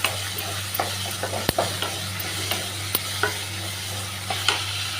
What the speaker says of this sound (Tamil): சேர்த்துட்டு நல்லா வதக்கிக்கலாங்க.